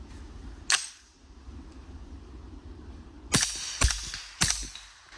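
A CAR-15 SD suppressed rifle fires 115 grain rounds outdoors: one muffled shot, then a quick string of three more a half second apart, each a sharp close crack with a short tail over faint background noise.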